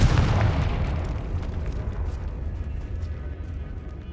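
Confringo spell explosion in Hogwarts Legacy, a single deep, booming blast that hits loud at once and rolls off into a long rumbling tail.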